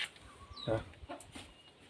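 A free-range country chicken gives a short cluck or two, fairly quiet and close, against a hushed background with a faint chirp.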